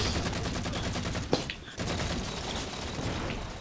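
Halo 4 multiplayer gunfire in a Rumble Pit match, a dense rapid stream of automatic shots, loud and close, with one brief sharper impact partway through and barely a gap in the firing.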